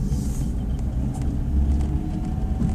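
A Mitsubishi Pajero Junior, a small 4x4, driving on the road, with a steady low engine and road rumble throughout and no talk.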